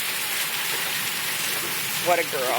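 Hail falls steadily outdoors in April as a constant, close, hissing patter. A person speaks briefly near the end.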